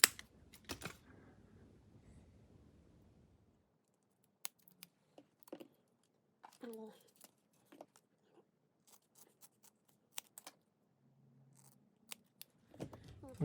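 Scissors snip a small piece of Velcro during an old motherboard battery replacement, with a few sharp close cuts and scattered quiet clicks spread across a mostly silent stretch, plus a brief low murmur.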